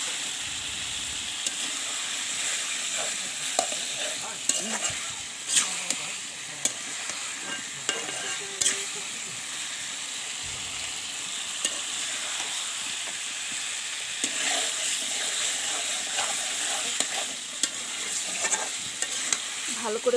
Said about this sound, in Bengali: এই যে দেখো তো কষাচ্ছি